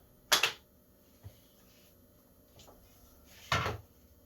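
Wooden drawer of a fly tying station pushed open and shut, a sharp sliding clunk followed later by a softer knock and a second louder slide, close and alone in a quiet room.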